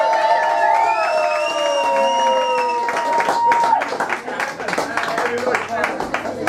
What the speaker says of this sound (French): Encore des tonnerres d'applaudissements pour le vainqueur.